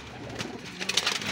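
Pigeons coo softly at close range, giving a few low, throaty coos with breathy rustling around them and no talking.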